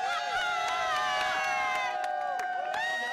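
Basketball fans crowd-cheering to welcome the Shockers team home, a dense, continuous roar with shouts and whistles throughout, loud and sustained without pause.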